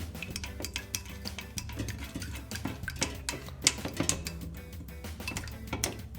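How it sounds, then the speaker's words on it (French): Metal spoon clinking and scraping around a bowl while stirring melted candle wax for a scented candle, a steady run of small ticks and taps, close and moderately quiet, with no talk. "je mélange bien ma cire à l'aide d'une cuillère"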